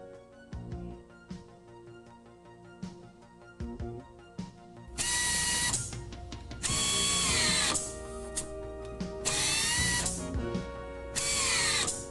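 An AIMCO US-LT power tool tested after its clutch is reinstalled: a few short clicks and taps, then repeated bursts of loud high-pitched motor whine with ratcheting, close by, with no talk.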